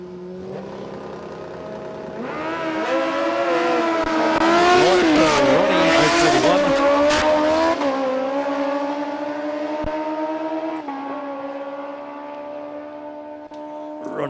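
Pro drag racing machines at Sydney Dragway launch in a semi-final pair, engines roaring up from idle into a loud, rising howl that peaks and then sustains as they run down the strip, with crowd-level background noise.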